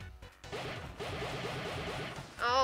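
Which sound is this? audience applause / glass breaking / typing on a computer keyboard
glass breaking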